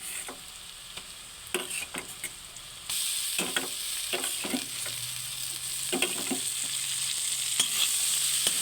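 Chopped onion, green chilli and ginger-garlic paste frying in a pan for a country chicken curry, a continuous sizzle that grows louder partway through, broken by repeated scraping strokes of a spoon as it is stirred.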